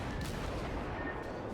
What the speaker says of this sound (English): I'm taking fire from the battleship